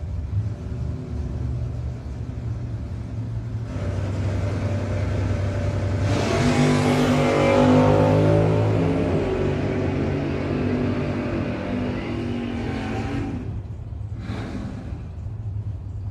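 A Camaro and a Chevrolet S10 drag race cars launch at a no-box 660 shootout, engines idling then roaring and revving hard into a loud, rising pass that fades away, with no talk over it.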